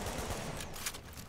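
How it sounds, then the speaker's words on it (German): Turret gunfire in the video game Tom Clancy's The Division, a dense, continuous fusillade of rapid shots that fills the whole moment, loud and close with no talk over it. "Oh nee, das ist ein Geschütz, scheiße."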